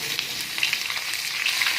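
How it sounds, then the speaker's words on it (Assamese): Bitter gourd fries in a pan with a steady crackling sizzle, close up, with small pops and spits scattered throughout and no voices. "আৰু এইপিনে ভাজিম ভাতকেৰেলা"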